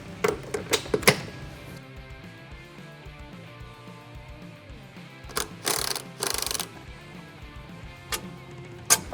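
A hand tool works the upper shock bolt loose on a Kawasaki Teryx H2 side-by-side, giving scattered sharp clicks and a few short rattling bursts, close by, with no voices.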